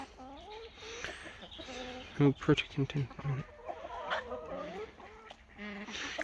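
Farm chickens cluck in a flooded woodland setting, with a short run of loud, close clucks in the middle and a rooster among the flock, while a person talks over them throughout.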